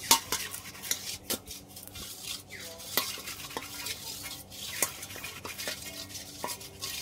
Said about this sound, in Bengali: একটা ছিদ্র থালা নিয়েছি, অল্প করে একটু সাদা তেল ভালোভাবে থালার চারিধারে লাগিয়ে নেবো এইভাবে।